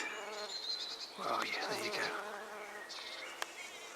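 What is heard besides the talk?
bees buzzing around comfrey plants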